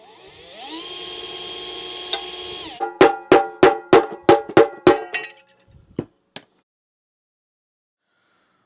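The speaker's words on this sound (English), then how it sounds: "I'm going to have to drill out these rivets." A power drill spins up and whines on a vintage Hoover Model 417E cylinder vacuum, then drills out rivets in about eight sharp, rhythmic bursts that end in a few faint clicks and near silence.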